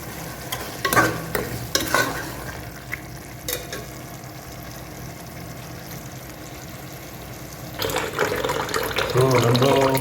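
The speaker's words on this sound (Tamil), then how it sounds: "ஸோ நம்ம அரிசி கழுவிட்டு இருக்கோம்." Rice being washed by hand in water for a beef biryani, with steady swishing and stirring, scattered splashes and clinks, and a louder burst of sloshing near the end.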